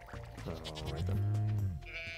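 A goat bleats once, drawn out and wavering, in the farming video game Stardew Valley, clear and close against a quiet background.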